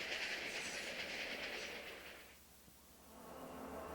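Union Pacific Challenger 3985 steam locomotive running on rails, a steady rushing rumble with hiss that fades midway, then swells again as the train passes.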